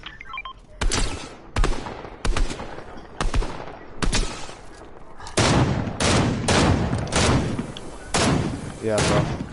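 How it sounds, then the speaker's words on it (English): Gunfire in the Fortnite video game cracks out in about ten loud bursts and single shots, sharp and close, spaced irregularly with brief pauses between. "Gunfire northeast."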